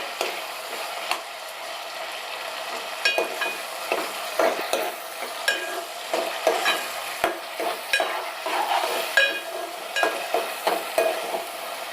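Onions fry and sizzle in a pan for a chole masala gravy, a steady crackling hiss broken by repeated clinks and scrapes of a spoon stirring, close and moderately loud with no talking.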